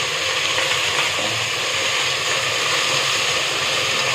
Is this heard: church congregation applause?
no